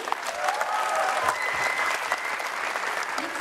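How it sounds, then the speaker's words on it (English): Dense, steady applause from a concert audience after a violin instrumental at the Esplanade, filling the whole stretch at an even level with no voices rising above it. "let's give it a round of applause"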